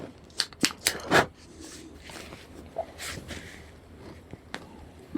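A cheap cigar is snipped with a cutter, giving several sharp, close clicks and crunches in quick succession near the start, then a few fainter clicks and handling noises on a quiet background.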